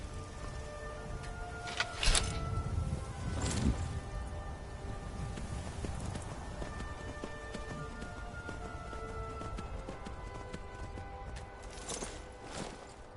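Steady clip-clop of horse hooves trotting in a continuous rhythm over a busy Skyrim game soundscape, with a few sharper thuds and tones layered on top.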